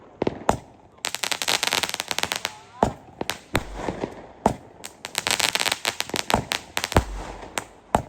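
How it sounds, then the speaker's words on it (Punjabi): Diwali firecrackers set off on a rooftop burst in rapid crackling volleys, with loud sharp bangs between them, close and echoing, in repeated rounds with brief pauses. "ਕਹਿੰਦੇ ਅੱਜ ਚਲਾਉਣੇ ਆ ਪਟਾਕੇ"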